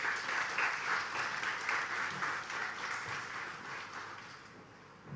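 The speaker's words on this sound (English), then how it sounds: "she deserves a round of applause" An audience at a school graduation evening claps in sustained, dense applause that holds steady, then gradually fades toward the end.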